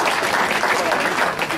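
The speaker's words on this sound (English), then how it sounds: "You could applaud that for crying out loud." Audience applause following a joke in a speech on workplace safety law, a dense, continuous burst of many people clapping, loud and close, filling the whole moment without talk on top.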